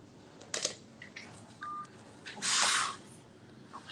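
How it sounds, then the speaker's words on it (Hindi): Keypad tones from a phone being dialed: several short separate beeps spaced irregularly, followed by a longer burst of noise and a sharp click at the end, with no talking. "मैं फोन करूँ क्या?"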